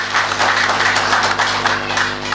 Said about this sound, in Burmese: လက်ခုပ်တီးပေးပါအောင်